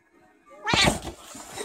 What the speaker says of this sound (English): How my cat reacts when she smells another cat on me.